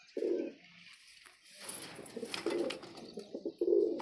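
Desi and Punjabi pigeons coo in a few short, soft, low bursts, close by, amid faint rustling and background noise.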